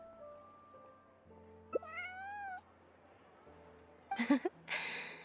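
A cute kitty meows in the video game Genshin Impact: a single clear, rising-and-falling meow sounds close over a quiet ambient hum, followed by a couple of short rustling bursts.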